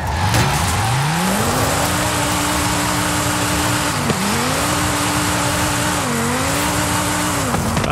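A tuned drift car in Forza Horizon 5 holds a steady, loud engine drone that rises at the start, then wavers through sliding turns, with a thin tire-squeal texture running underneath and no talking.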